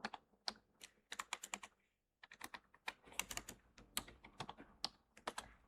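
Rapid computer keyboard typing while entering text into a SolidWorks drawing: bursts of crisp clicks with a short pause around the two-second mark, close and clear, with no voice.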